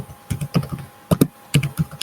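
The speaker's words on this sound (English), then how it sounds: "your typing is very loud." Loud typing on a computer keyboard, with irregular close clacks in short bursts and small pauses between keystrokes, heard alone without speech.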